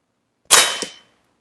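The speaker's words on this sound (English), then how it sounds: "Let me shoot one more." A single sharp crack of an AirForce Texan air rifle firing, loud and close, with a brief ringing decay and a second smaller knock just after, alone in otherwise quiet surroundings.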